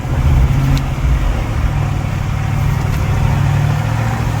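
A 2022 Ram 1500 pickup engine runs steadily under light throttle in mud, a deep continuous rumble with a slight rise in revs, close and loud throughout.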